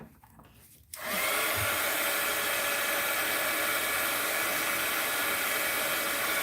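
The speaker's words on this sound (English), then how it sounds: "I want to hit it with the heat gun." A heat gun switches on after a second and blows a steady, loud roaring hiss at a layer of wax, holding constant to the end.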